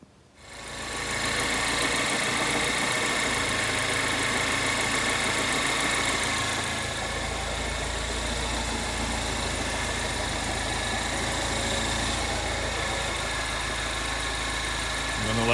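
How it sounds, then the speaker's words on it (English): A salvage-auction Mini Cooper S R56 engine cranks and catches, then settles into a steady, loud idle with a constant mechanical hum that runs uninterrupted to the end. "Gonna start the car, see if there are any leaks."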